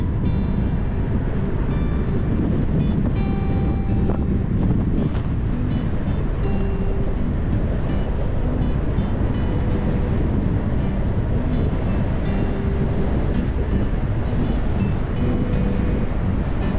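A train on the Madrid–Barcelona line in Spain rumbles steadily past at close range, a continuous broadband roar with rhythmic clatter and some wind buffeting, no voices.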